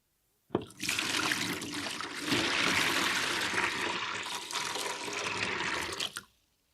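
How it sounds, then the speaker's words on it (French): Milk pours steadily into a can with a continuous splashing gush, close and fairly loud, for about six seconds before stopping. "Le lait versé dans le bidon."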